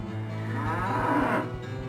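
Cattle in the PS1 video game Diablo give a low, drawn-out moo that swells and fades over about two seconds. It sounds close and steady, with no talk.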